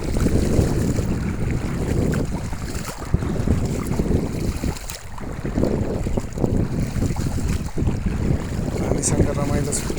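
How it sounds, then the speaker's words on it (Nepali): A stream in Saudi Arabia rushes and burbles in a dense, continuous wash of water noise with wind gusts, running steadily without break. "Call call call call call call बगिरहेछ।"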